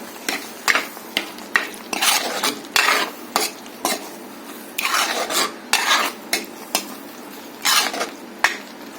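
A spatula scrapes and clatters repeatedly against a pan as prawn roast with garam masala is stirred, giving close, loud, irregular strokes with a faint sizzle underneath and no talking.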